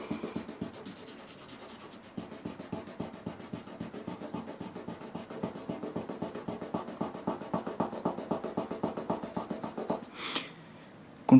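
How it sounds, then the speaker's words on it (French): Hand sanding of a paint touch-up on a car body, a steady rapid rhythmic scratching from small circular strokes, close and moderately loud, ending with a brief wipe and pause. "la surface est matifiée avec le ponçage"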